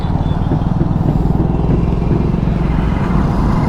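Yamaha Aerox 155 scooter ridden on an open road, its engine a steady low drone with wind rumble holding loud and close throughout, no voices.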